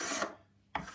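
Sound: tapering wooden guitar back braces by hand

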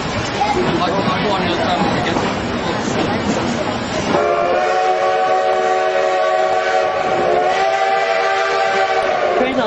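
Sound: train passing with whistle

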